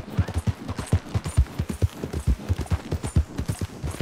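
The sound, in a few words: horse hooves clopping in the video game Red Dead Redemption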